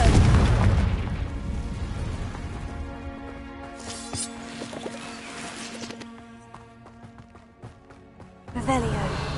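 A Confringo blasting spell in Hogwarts Legacy goes off with a loud opening boom that fades into a ringing, tonal tail, followed by scattered clicks and a second burst near the end.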